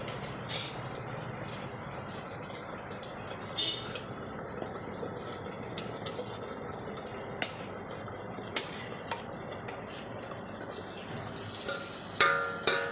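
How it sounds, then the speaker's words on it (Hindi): Green moong dal sizzles softly as it fries in cooked masala and separated oil in a pan, a faint, continuous hiss with occasional clinks of a spoon stirring. "थोड़ा सा मसाले में दाल को भून लेते हैं"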